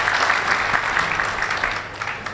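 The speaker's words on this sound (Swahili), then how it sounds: "Naomba tujipigie makofi mengi sana." An audience at a mass wedding ceremony claps, with a dense, steady burst of applause from many hands that holds for a couple of seconds.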